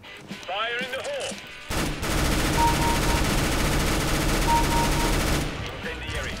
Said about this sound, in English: Oh, decoy grenades.